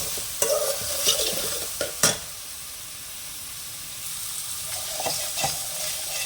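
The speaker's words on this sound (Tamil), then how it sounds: "இப்போ நாம் கத்திரிக்காய் மறுபடியும் கிளறி விட்டுக்கலாம்." Brinjal frying in a pan for a tamarind-style brinjal gravy is stirred with a few quick, sharp scrapes early on, then left to a softer steady sizzle that swells briefly near the end.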